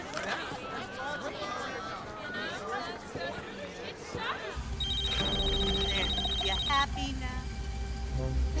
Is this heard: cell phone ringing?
yes